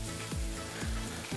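Butter sizzling in a pan with mashed potatoes, a steady crackling hiss with periodic scraping stirs of the spoon, close and continuous, no talking.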